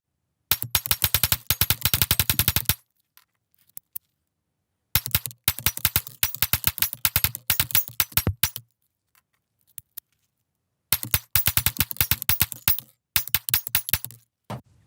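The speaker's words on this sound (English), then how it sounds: "So that's 285 rounds so far. No malfunctions and no misfire with the ammo." A Springfield Prodigy pistol fires rapid strings of shots at close range, three loud bursts of quick cracks each lasting about two to four seconds, separated by silent pauses, with no talking.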